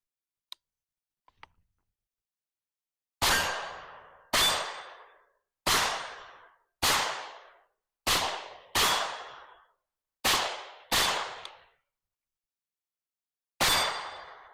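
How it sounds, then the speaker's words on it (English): AR15 rifle firing at targets outdoors, nine sharp single shots spaced about a second apart, each loud and near with a quick decaying tail, followed by a pause before a final shot. "And yeah, let's do some shooting so you can see how it looks."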